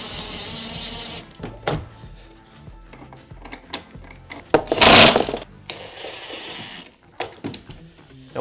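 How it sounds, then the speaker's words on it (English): A bracket is fastened with 3/8 inch screws to a Holman rigid floor in a Ford Transit van, giving close bursts of mechanical whirring, rattling and sharp clanks. "Just use these provided 3/8 inch screws to attach the bracket to the floor."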